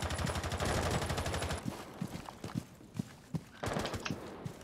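Gunfire in the video game Rainbow Six Siege: a rapid automatic burst rattles at the start, then single shots crack out at irregular intervals, fairly loud and close, at a window on a map with a red tower.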